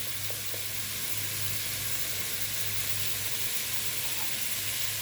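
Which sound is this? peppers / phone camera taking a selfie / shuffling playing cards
peppers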